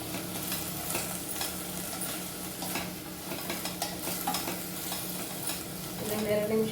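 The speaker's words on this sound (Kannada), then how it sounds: "ಫ್ರೈ ಆಗಲಿ ಇಲ್ಲಿ" Mint rice frying in a pan, a steady broadband sizzle with stirring scrapes running throughout, moderately loud and close, with no talking.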